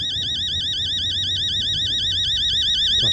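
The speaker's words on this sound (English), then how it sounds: "Freaking alarm, turn that junk off." An alarm blares in the horror video game Fears To Fathom: Home Alone, a steady warbling electronic siren with a rapid, even wavering pitch, loud and continuous throughout with no talk over it.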